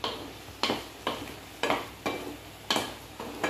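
Semolina and crushed bread are stirred while roasting dry in a pan over high heat. About seven evenly spaced, soft scraping strokes repeat in a steady rhythm, faint and close, with a light sizzle between them.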